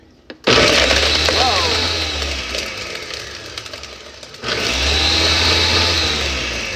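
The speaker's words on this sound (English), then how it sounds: "We're going to do a little blend, power it on." A Ninja blender crushing a frozen smoothie, running loud and close in two bursts with a short pause between, a harsh grinding whir as the frozen chunks break up.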